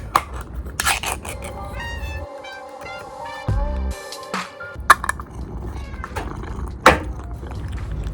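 House cats being fed canned food, several soft meows and chewing noises over a low background, with a voice talking now and then between the cat sounds.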